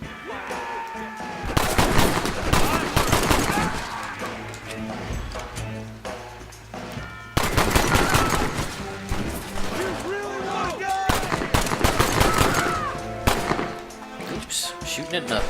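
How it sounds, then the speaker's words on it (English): Pistol gunfire in Red Dead Redemption comes in loud, rapid bursts of repeated shots, with brief pauses between volleys and faint ambient sounds in the gaps. "Shooting at nothing."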